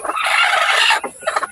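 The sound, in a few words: chickens clucking and rooster crowing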